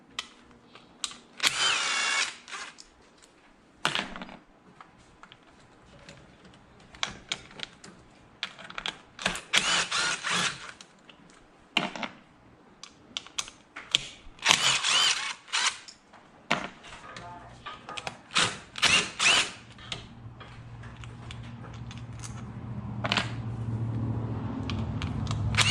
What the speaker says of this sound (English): I'm fixing to take all of the ignition coils off.